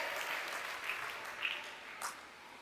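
Congregation applauding in a church service, a steady wash of clapping at moderate distance with a few sharper bursts, no speech over it.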